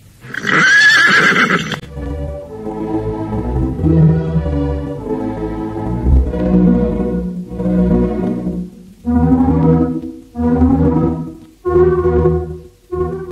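A horse gives a loud, close whinny at the start, followed by further rhythmic horse sounds with no talking.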